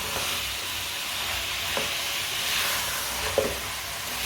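Chopped turnip (shalgam) frying in a pan gives a constant hiss and sizzle, with a few soft spoon scrapes as it is stirred, close and moderately loud, no talk.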